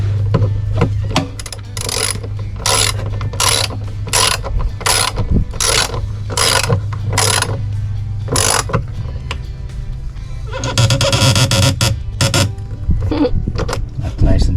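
Ratchet wrench cranking tight on an electrical wire connection during a DIY camper van electrical build, a steady run of rapid clicking bursts close up, pausing briefly, then a denser stretch of ratcheting near the end.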